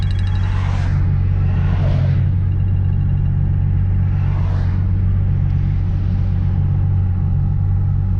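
Supercharged 3.7 Ford Mustang pulling in third gear toward 6,000 RPM, a deep continuous engine rumble heard from inside the car, steady and loud, with a few brief higher whooshes over it.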